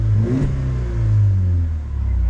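BMW E46 with an N42/N46 four-cylinder engine, fault code 272c for mixture adaptation limit, revving nearby with a steady low rumble that swells and eases slightly, no talk.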